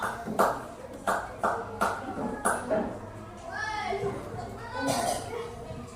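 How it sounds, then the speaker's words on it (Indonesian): A classroom group gives Nano about five slow, loud, unison rhythmic claps, then the clapping stops and children's chatter and voices take over. "tepuk tangan dulu untuk Nano"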